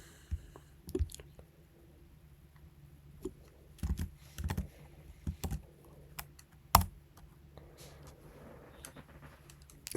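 Quiet, scattered keystrokes on a computer keyboard arrive in short irregular bursts, with one sharper, louder key press like an enter key partway through, close and alone without speech.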